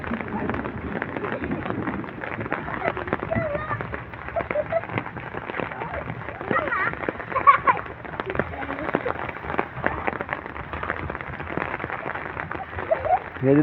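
Steady rain falling over a flooded village road in the open, a dense patter throughout with a person talking over it.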